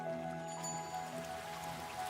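Rain falling in a soft, steady patter with faint drips and a low background hum, quiet and continuous throughout, with no voices.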